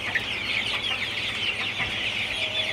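Sonali super hybrid chickens, 42 days old, cluck and chatter continuously in a hot poultry shed. The flock is close and moderately loud, with overlapping calls and no talking.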